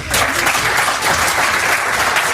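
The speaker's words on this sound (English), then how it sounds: "Keep the applause going, come on." An audience at a ZDay 2017 talk in London breaks into loud, dense applause that holds steady from start to finish, with no talking over it.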